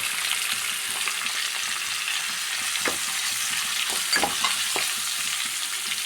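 Cumin seeds and onion sizzling in hot oil in a pan for a brinjal curry, a steady close frying hiss with a few sharper crackles and pops, no voices.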